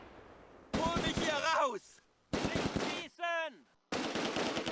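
Gunfire from a two-man BAR squad in the Close Combat war game, set at the edge of a town during Operation Market Garden. Loud bursts come in separate clusters with short silent gaps between them, and no one talks.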